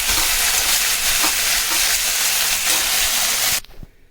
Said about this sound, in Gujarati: અને તેલમાં બધું સાંતળી લેવાનું